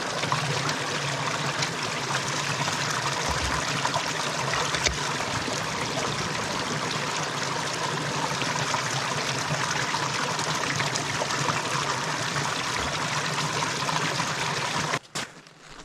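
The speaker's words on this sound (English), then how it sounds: "just walked over to the brook here to get a bit of water for the kettle and for the dog's bowl." A winter brook trickling steadily, a continuous soft gurgle of running water close by, unbroken for the whole stretch and fading out abruptly at the end.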